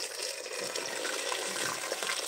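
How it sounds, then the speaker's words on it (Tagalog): Water pours steadily into a cooking pot holding tomato paste, a continuous close splashing gush filling the whole moment without talk. "Tapos, lagyan ko siya ng tubig guys."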